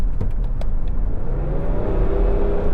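A Range Rover driving along, a loud constant engine drone and road rumble from inside the cabin, a rough, tractor-like tone with a rising pitch as it pulls, and no talking.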